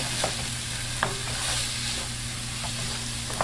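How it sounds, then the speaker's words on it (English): Spices and hoisin sauce get stirred into food frying in a pan, a steady sizzle under a low hum, with several distinct scraping clicks of the utensil against the pan at irregular intervals. "I'm going to mix this all together. Let the spices coat everything. Let the hoisin coat everything."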